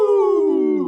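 A group lets out a spooky, howling "woo" cheer, one sustained wavering wail that slowly drops in pitch, loud and close, mimicking a ghostly or wolf-like howl.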